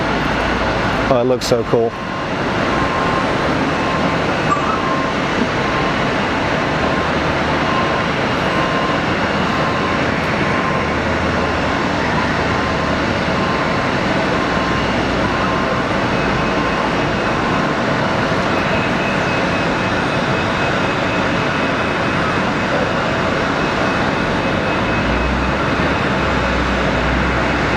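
A new-looking Airbus airliner with massive engines arrives at Geneva Airport, producing a loud, steady broadband jet roar that fills the whole stretch after a brief knock at the start, while a nearby person speaks over it.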